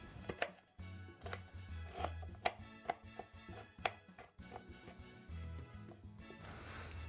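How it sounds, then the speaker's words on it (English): A knife chops a red onion into small pieces on a cutting board, giving close, crisp, fairly regular thuds in quick bursts, with no talking over them. "Cut it up in small pieces"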